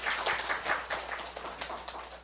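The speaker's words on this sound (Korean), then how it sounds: "우리 하나님께 박수 올려드려요." Church congregation clapping together after a sermon, a quick run of claps at moderate distance, fairly soft and steady.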